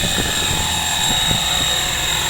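A steady, loud, high-pitched whine from a size 600 model helicopter engine throttled up to high revs, with a faint rotor thrum beneath.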